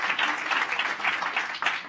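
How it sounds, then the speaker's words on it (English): An audience at a health forum during a UN General Assembly session gives a short burst of steady, moderately loud applause. "You can applaud"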